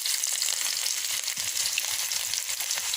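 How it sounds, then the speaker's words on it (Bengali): Onion and garlic fry in a pan alongside already roasted dried chillies for a kalojira bhorta, giving a steady, bright, close-up sizzle with faint stirring and no voices. "এগুলো একটু ভালো করে ভেজে নেব"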